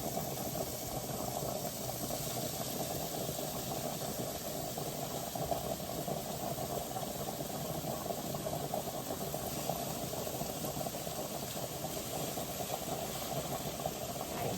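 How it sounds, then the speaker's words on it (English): Hamburger patties sizzle steadily in a hot pan, a continuous dense crackling hiss that stays even and close throughout, with no talking. "You want that sizzle."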